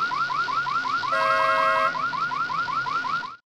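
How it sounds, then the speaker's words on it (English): A car alarm loops a rapid rising whoop pattern against a background of noise, loud and continuous for about three seconds before cutting off abruptly, with a brief steady electronic tone overlaid partway through. "here we have a car alarm sound embedded in a field of noise"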